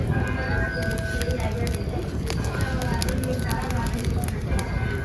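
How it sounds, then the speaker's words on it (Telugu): A whole country chicken roasting over an open cooking fire: dense crackling and popping flames sound loud and close, while a person talks over them. "శుభ్రంగా కోడి మొత్తం కాలేటట్టుగా కాల్చుకోవాలి."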